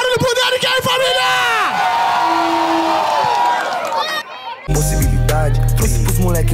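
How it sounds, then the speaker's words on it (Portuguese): A crowd at the Batalha da Aldeia rap battle cheers and shouts for the rapper Derek, with whoops and raised voices over music that cuts out and switches to a heavy beat near the end. "Mais barulho pro Derek aí, família!"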